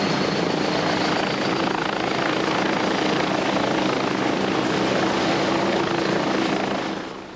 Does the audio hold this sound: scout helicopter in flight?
yes